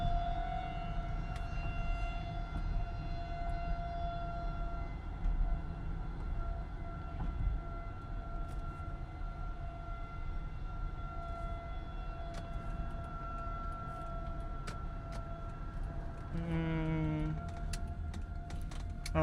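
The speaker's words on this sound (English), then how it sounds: "Yeah, they have the sirens going off." Civil defense tornado sirens sound across a small town during a storm, a faint, sustained distant wail holding steady tones under low road and wind noise, with a brief rising sweep near the end.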